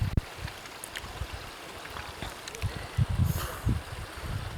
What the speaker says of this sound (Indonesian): Ini sekarang sudah jadi sungai kecil malah ini.